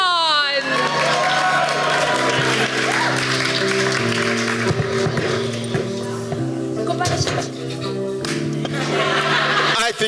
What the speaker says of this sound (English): I think you can give them a bigger round of applause.